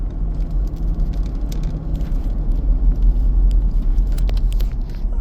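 A coal truck rolls past on a rural road, a steady close engine rumble with road noise building slightly toward the end, no talk.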